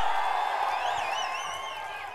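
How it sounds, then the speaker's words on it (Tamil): Crowd of people gathered at an AIADMK campaign rally in Vedasandur, a steady roar of cheering and voices with shrill whistles rising over it, continuous and moderately loud throughout. "இந்த வேடசந்தூர் பேரூராட்சியில் குழுமி இருக்கின்ற மக்களுடைய ஆரவாரம்"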